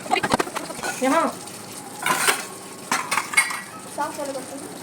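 Dishes, pots and cutlery being washed in a home kitchen in India, with scattered clinks and clattering bursts of metal and ceramic and a faint voice now and then.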